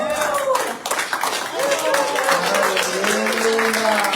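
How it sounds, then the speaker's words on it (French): A church congregation claps during a Sunday morning service, dense clapping running throughout while voices call out loudly over it. "Est-ce qu'on peut donner une bonne main d'applaudissement au Seigneur ce matin?"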